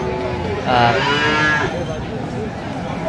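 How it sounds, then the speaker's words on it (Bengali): Young Friesian cross-breed cattle calf lowing at a cattle market in Aftabganj, Dinajpur, one loud drawn-out moo close by over a steady market hubbub. "মমিনুল ভাইকে গরুটি দেখছেন"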